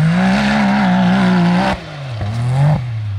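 A side-by-side UTV engine revs hard and loud up close, its pitch climbing and sagging as it is driven aggressively, dipping briefly before surging again.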